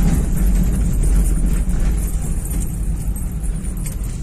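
A 2013 Volkswagen Polo accelerating on a road, its engine a steady loud roar with broadband road and wind noise throughout, easing slightly toward the end; no talking.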